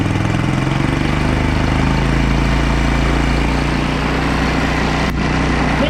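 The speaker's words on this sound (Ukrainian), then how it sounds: "Вихлоп у нас тільки виходить такий голосний, захоплено від нього. Моторчик тільки шумить." A Chinese four-stroke 139QMB scooter engine idles steadily with a loud exhaust, an even close-up drone and rumble that holds the same pace throughout, with a brief click near the end.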